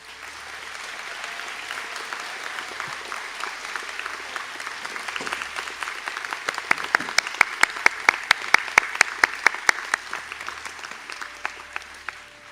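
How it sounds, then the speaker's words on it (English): At a graduation conferring ceremony, an audience applauds the graduates of mechatronic engineering and computing with steady, moderately distant clapping, and a few sharp, louder claps stand out near the microphone toward the end. "to stand for a round of applause"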